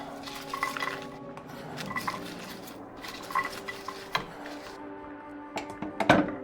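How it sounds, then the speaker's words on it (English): Food scraped into a pot on a stove, with metallic clinks and scraping of utensil against cookware in irregular bursts, a faint sizzle beneath and a sharper clatter near the end, no voices. "Something is scraped into a pot."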